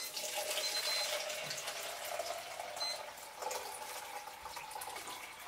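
Color film developing liquid pours and splashes steadily out of a developing tank into a sink or basin, a continuous watery rush at moderate volume with no talking.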